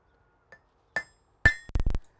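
Blacksmith's hammer striking hot metal on an anvil in a smithy, close and loud: three separate ringing blows followed by a quicker cluster of heavy strikes.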